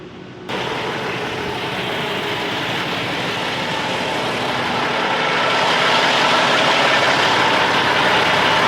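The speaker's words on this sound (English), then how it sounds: "I idled the truck up to 950 RPM" A semi truck's diesel engine idles at about 950 RPM, a loud steady rumble that jumps up after a brief quieter start and slowly grows a little louder, with no talk.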